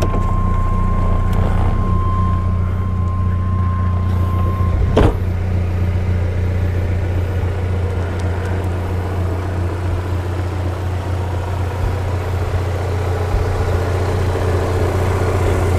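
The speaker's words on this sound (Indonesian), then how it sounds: "start engine" A healthy 2001 Chevrolet Blazer LT DOHC engine runs in a steady, smooth, loud idle, with a brief sharp knock near the start and no talking over the constant motor drone.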